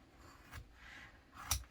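Scissors snip through embroidery stabilizer material on an in-the-hoop bag, giving two short crisp cuts, the second sharper and louder, close by in a quiet room.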